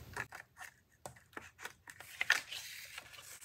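Scissors snip through card stock at a scored line for a paper craft project, a series of short, crisp cuts close up in a quiet room.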